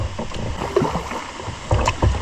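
A canoe paddled down the Pine River: close paddle strokes dip and splash in the water, with a couple of sharper pulls near the end and no talking.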